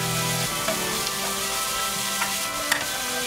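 Bacon strips hitting a hot pan during prep of a bacon cream tteok dish, giving a steady broadband sizzle with a few light clicks and scrapes, close and continuous with no talking.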